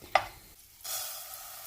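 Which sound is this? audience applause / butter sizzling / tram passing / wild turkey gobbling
butter sizzling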